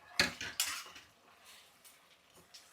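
A spoon scrapes and clinks against a metal pot while coriander paste is stirred into pulusu: two sharp knocks near the start, then softer scraping stirs, close and alone.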